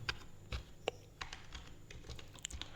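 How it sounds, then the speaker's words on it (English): Fingers tap out a short burst of keystrokes on a computer keyboard, giving faint, close, irregular clicks with small pauses between them. "so I'm going to type in happy"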